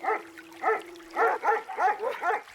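A police squad dog gives a string of sharp, close barks, starting with a drawn-out bark and then settling into an uneven rhythm of single and double barks.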